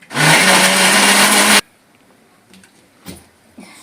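A mixer grinder whirs loudly for about a second and a half while grinding masala with rasam powder, then cuts off abruptly, leaving faint knocks and small handling sounds.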